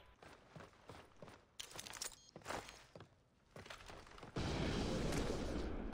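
Gunshots in a first-person shooter game, a series of sharp distinct bangs spaced irregularly, some quick in succession, followed by a louder sustained burst of noisy fire near the end.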